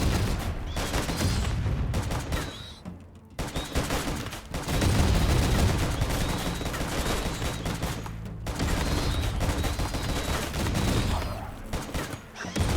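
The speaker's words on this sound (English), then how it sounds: "We're relying mostly on the rifles." Rifle gunfire in RimWorld, rapid overlapping volleys of sharp cracks and rattling bursts that run nearly nonstop with brief lulls, loud and busy throughout.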